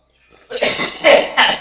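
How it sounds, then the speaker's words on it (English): A person coughs a few times in quick succession, close and fairly loud. "that was like a preliminary cough"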